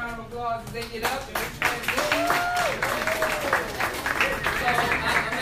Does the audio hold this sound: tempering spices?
no